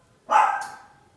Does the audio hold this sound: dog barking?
yes